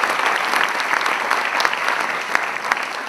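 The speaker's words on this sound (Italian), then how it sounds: "un applauso innanzitutto va a loro" A theatre audience at an evening event bursts into dense, loud applause, many hands clapping together in a steady roar with a few sharper claps standing out.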